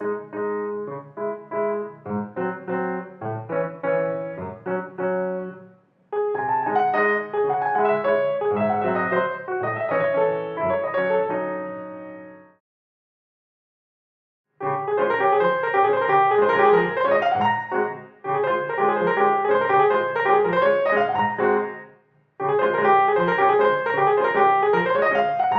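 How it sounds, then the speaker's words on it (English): Piano played in 4/4 with a crotchet, crotchet, minim rhythm, chords repeating in even phrases separated by brief pauses, clear and close with no talking. "crotchet, minim, which would sound something like this."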